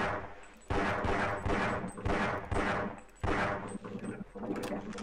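Repeated bursts of gunfire from Half-Life, with sharp shots clustered in several loud volleys across the span and short gaps between them.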